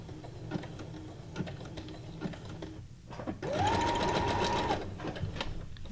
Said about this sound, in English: Now this one I'll do a back stitch on.